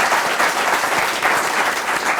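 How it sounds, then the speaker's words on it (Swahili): A studio audience on a Kenyan talk show applauds a guest, Senator Edwin Sifuna, with loud, dense clapping that holds steady from start to finish. "wapi makofi ya Edwin Sifuna?"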